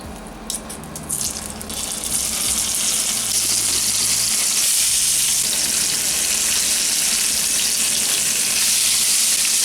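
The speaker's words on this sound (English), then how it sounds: "The oil seems to be pretty hot now, and I'm going to put mishkaki on it." Loud, steady sizzling of East African beef kabobs (mishkaki) frying in hot oil, close up, beginning with a few crackles and settling into a continuous hiss.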